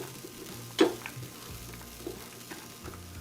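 Chopped onions sizzle softly in a hot pan, a steady low frying hiss with a sharp scrape or stir near the start and a few small ticks, fairly quiet and close.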